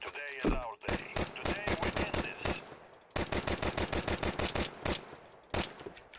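An AK rifle in a video game fires rapid, evenly spaced automatic bursts, with close, sharp shots in two long strings separated by a brief pause.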